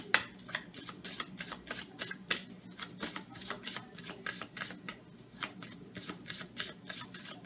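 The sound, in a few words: drawing tarot cards from a deck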